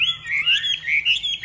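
A caged Chinese hwamei songbird chirps loudly and close, a quick run of bright, warbling high notes broken by short pauses.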